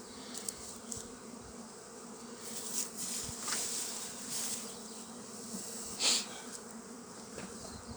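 Honey bees buzz in a steady, close swarm around hives heavy with colourful pollen, a continuous hum with individual bees droning past the microphone.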